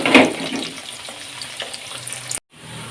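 Onions sizzle and crackle in a hot pan, with a louder burst of stirring at the start, then a steady gentle frying hiss before it cuts off.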